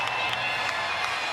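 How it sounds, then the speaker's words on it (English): Basketball arena crowd at a WNBA game between the Phoenix Mercury and Las Vegas Aces, a dense, steady roar of cheering and scattered clapping filling the space, loud and continuous without a break. "Crowd making some noise."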